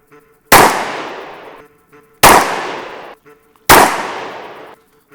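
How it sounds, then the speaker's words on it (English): Three loud, close gunshots from a Glock 20SF 10mm pistol, each a sharp blast trailing off over about a second, spaced roughly 1.5 seconds apart with brief quiet between. "Glock 20 SF, 10mm, first shots."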